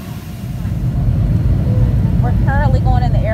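Airplane engine roaring steadily through takeoff on a passenger flight, a loud broadband rumble that fills the cabin while people talk over it.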